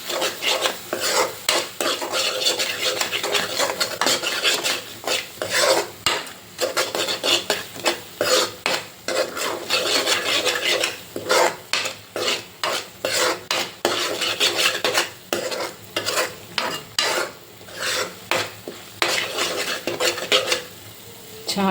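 Metal spoon scraping and clanking steadily in a pan of spicy egg gravy curry made with raw chilli paste, a busy rhythmic stirring that runs close and loud with short pauses, no voices.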